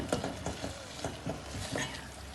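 A spoon breaks up fried goat brain in masala in a pan, giving a run of soft, close scraping and stirring knocks over a low sizzle, with no talking.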